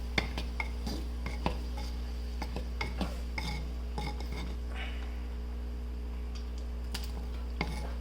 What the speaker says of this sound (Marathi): याच्यामध्ये टोमॅटो, कांदा आणि काकडी घातलेली आहे आणि मिक्स करतो